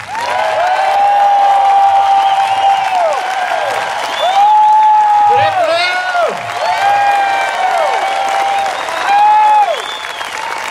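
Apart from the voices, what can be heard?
crowd applauding and cheering at a political rally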